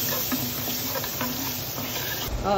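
Butter melting in a pan while a ladle stirs it, a soft close sizzle and patter with light scraping strokes and no voices.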